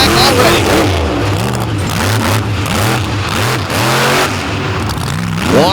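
Race car engines at the Throwdown on the U.P. event roar and rev around the track, loud and close with wavering pitch as cars accelerate and slide, mixed under an announcer's commentary.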